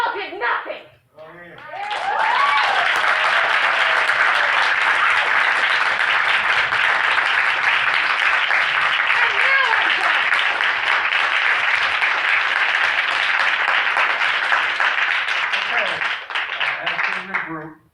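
An audience at a Torrance city council public-comment session breaks into loud, sustained applause and cheering that fills the room for about fifteen seconds before fading out.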